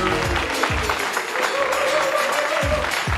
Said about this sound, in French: public, tonnerre d'applaudissements pour Nina